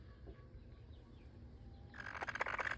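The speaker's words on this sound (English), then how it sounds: "That's a good clucky sound." A broody free-range hen clucks softly at first, then breaks into a louder run of agitated clucks near the end, close by, with no talking.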